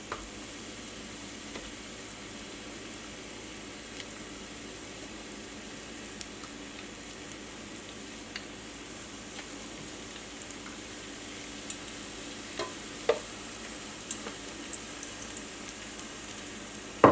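Battered squash blossoms stuffed with crab rangoon filling sizzle in oil, a faint steady hiss with occasional small pops and crackles, close by and without talk.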